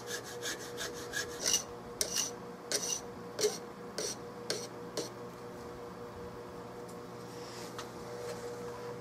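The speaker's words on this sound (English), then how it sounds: "I'm just filing it away towards outside diameter will fit in there." A hand file rasps on a metal part for a 16-gauge side-by-side shotgun, taking off material toward the outside diameter in about ten rhythmic, evenly spaced close strokes before the work falls quiet.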